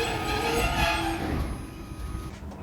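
On board a night train bound for Turkey, a steady low rumble and rolling clatter fills the carriage, loud at first and easing slightly toward the end.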